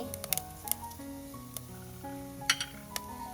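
Salt is stirred into prawn moju frying in a pan: soft scraping and light clinks of a spoon against the pan, with faint sizzling underneath, heard quietly and close.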